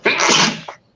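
A single sharp, close sneeze, a quick breathy burst that fades out within a second.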